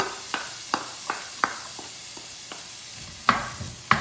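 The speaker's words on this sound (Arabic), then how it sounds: "أنا هنا حطيت تقريبا معلقتين زيت زيتون، بدي أضيف عليهم البصل" Onion frying in about two spoonfuls of olive oil, a soft continuous sizzle punctuated by a series of sharp spatula taps and scrapes, close by and alone.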